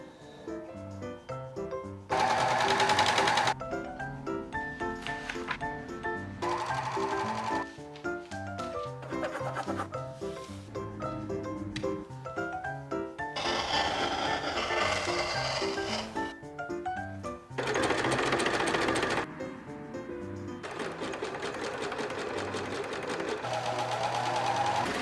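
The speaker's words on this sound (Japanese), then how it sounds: "洋裁歴8年目にしてついにロックミシンを買った。" An overlock serger sewing machine stitches in repeated bursts of fast, rattling mechanical whirring, separated by brief pauses and handling noises.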